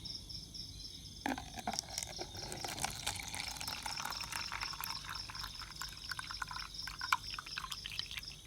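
Water poured into a truncated-cone container for an ultrasonic water-level sensor test, a soft trickling and splashing pour that starts abruptly after a quiet moment and continues with small bubbling gurgles, faint and close.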